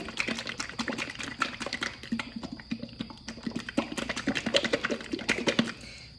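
Thin liquid paint is stirred briskly, giving rapid wet clicking and sloshing in a steady rhythm, close up.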